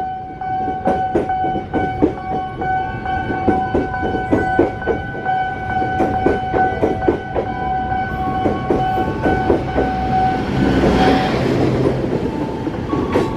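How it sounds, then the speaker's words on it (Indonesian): The Kertajaya passenger train from Surabaya to Pasar Senen rolls past a Jakarta level crossing, loud and close, with a rapid clickety-clack of wheels over rail joints, a sustained crossing bell tone ringing throughout, and a swelling rush near the end. "Kereta api Kertajaya dari stasiun Surabaya tujuan akhir Pasar Senen sudah lewat."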